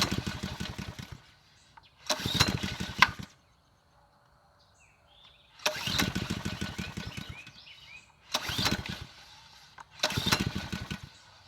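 A Honda GCV190 engine on a Ryobi pressure washer is started repeatedly with the pull cord: four or five loud, close bursts of rapid chugging cranking, each a second or so long, separated by near silence.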